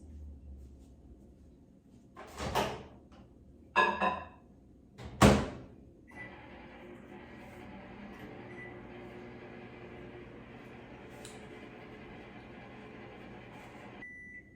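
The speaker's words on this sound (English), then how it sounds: "pop it into the microwave for 60 seconds" A few loud clunks and beeps, then a steady low hum and whir of a microwave oven running for several seconds, ending in a faint beep.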